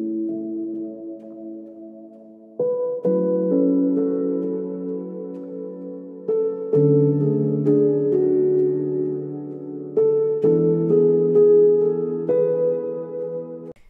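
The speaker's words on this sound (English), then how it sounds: "and then you will have more full piano sounds like this." Layered lofi piano chords with reverb, built in Logic Pro X, play alone as a slow progression of four sustained chord changes, each ringing out and decaying softly.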